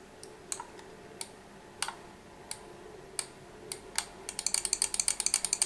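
Side buttons on a TeeVolution Terra Pro 8K mouse give sharp, close clicks, a handful of spaced presses followed by a quick rapid series at the end.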